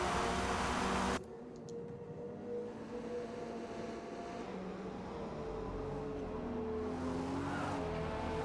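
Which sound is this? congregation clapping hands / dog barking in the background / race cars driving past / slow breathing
race cars driving past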